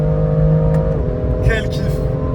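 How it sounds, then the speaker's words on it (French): A BMW M2 sports car in sport mode accelerates hard on the autobahn, its steady loud engine drone and road roar heard from inside the cabin, rising slightly in pitch, with a brief voice in the background. "on se devait de se faire quand même une petite accélération en autobahn"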